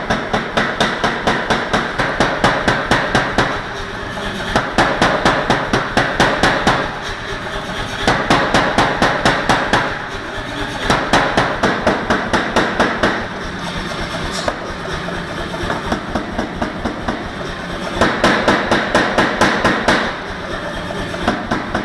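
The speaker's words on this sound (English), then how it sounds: "a couple of these will just get forged straight out" Welded steel knife blanks being hammer forged, with the tang and tips drawn out: loud, rapid, evenly spaced metallic blows come in repeated bursts separated by brief pauses, with no voices.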